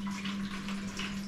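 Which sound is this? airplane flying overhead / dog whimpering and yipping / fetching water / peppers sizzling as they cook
fetching water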